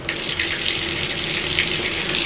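Water pours steadily from a shower head in a La Quinta Inn & Suites hotel room in Springfield, Missouri, a close, continuous hissing spray with no breaks.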